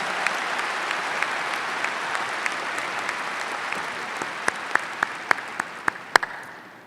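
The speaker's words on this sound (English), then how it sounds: "Let's give them a big round of applause." Audience applause at the Northeastern University 2014 commencement, honoring returning Golden graduates from over fifty years ago: a broad, steady wash of clapping from a large crowd, with sharper individual claps standing out near the end as it fades.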